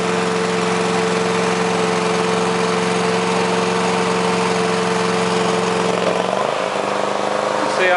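A 2007 Tiger hydraulic auger bucket runs during a demonstration, its engine and hydraulics giving a loud, steady droning hum that shifts pitch briefly near the end as the load changes.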